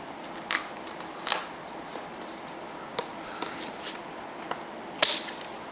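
Scissors snip off excess craft material from a jeweled butterfly card project, several sharp, close cuts spaced irregularly over a quiet background.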